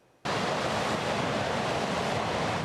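High surf at La Jolla on the San Diego coast during a high tide advisory, a dense, continuous roar of breaking ocean waves that starts abruptly and stays loud and steady with no voices.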